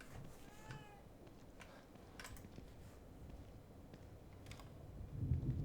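A cat meows inside the survival horror game The Evil Within 2, with a couple of short, fairly faint mews over low ambient game rumble and noise.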